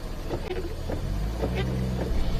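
A Mini's wheels spin in snow with the diff lock engaged, giving a steady engine drone with a repeating whirring pulse roughly every half second. The sound is close and continuous.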